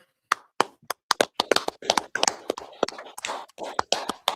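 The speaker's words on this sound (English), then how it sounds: "All right, clap it up." Sparse, sharp claps sound close by, starting as scattered separate hits and building into a loose, irregular rhythm, with soft murmuring voices in between.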